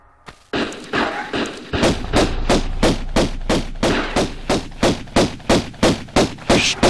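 Shotgun fire in the Tomb Raider video game aimed at a redneck enemy: a long run of loud, evenly spaced heavy blasts, about two or three per second, with almost no talk between them.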